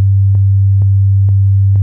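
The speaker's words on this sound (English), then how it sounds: "So you can hear it's a pure sine wave." A pure sine wave bass note from an Ableton Live synthesizer sustains as a loud steady low hum, broken by faint clicks at each repeated note start, roughly twice per second.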